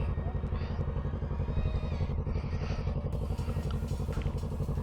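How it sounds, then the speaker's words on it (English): A small moped engine putters close by with a fast, even, rattly pulse, steady throughout with light clatter on top. "Little brother on his moped."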